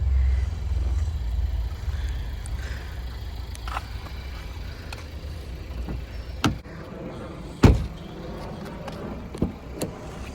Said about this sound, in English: I love this solid Mark 6 door thunk.